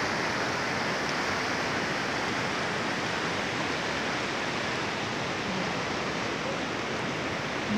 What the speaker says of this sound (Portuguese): Aí daí que vai para a cachoeira. Lindo de se ver. Muita água mesmo.